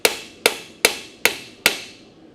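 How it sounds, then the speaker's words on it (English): Ball peen hammer striking hot metal during blacksmith forging, five sharp ringing blows evenly spaced, each decaying briefly before the next, close and loud. "Little ball peen action here."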